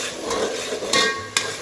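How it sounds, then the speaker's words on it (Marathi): Tomato paste sautéing in a pan for a shahi murgh musallam, a dense sizzle broken by two or three sharp metal spoon clinks as it is stirred, close up and without voices. "टोमॅटोची पेस्ट, आता हे छान परतवून घ्यायचं आहे."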